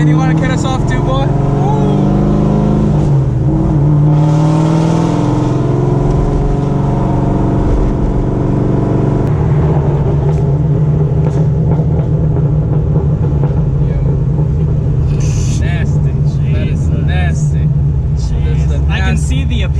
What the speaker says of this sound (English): I can see the appeal of driving a straight pipe Corvette.